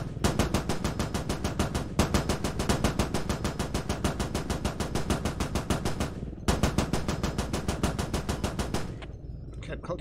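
Sustained automatic gunfire in the tactical shooter game Squad, a dense, rapid stream of loud shots that pauses briefly twice before fading out near the end.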